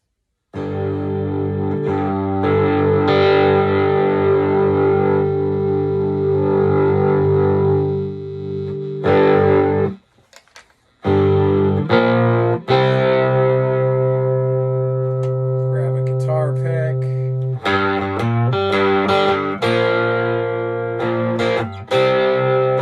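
A distorted three-string cigar box guitar strums sustained chords through a Vox Mini Go amp, ringing loud with a brief pause before playing resumes.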